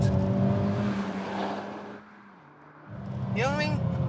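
Sports car engine, a Toyota GR Yaris or Honda Civic Type R, revving hard at high rpm, a loud strained note that dips briefly before roaring back up as the car passes, with a voice talking over it.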